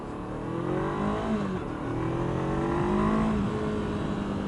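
A 2017 Honda CBR 500R motorcycle engine revs and climbs through the gears while riding, its pitch rising steadily under continuous wind and road noise.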